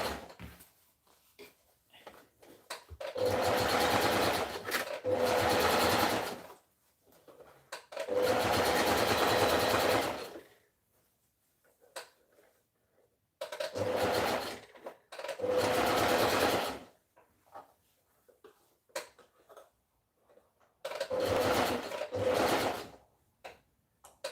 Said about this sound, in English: I make sure I top stitch those seams inside with my pocket.